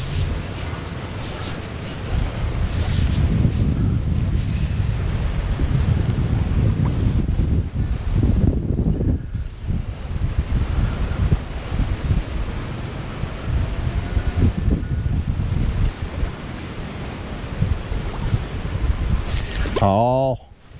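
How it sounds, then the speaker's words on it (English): North wind blows outdoors during a fishing outing, a loud, continuous roar of gusts buffeting the microphone with a brief lull midway and voices at the end. "The wind is out of the north."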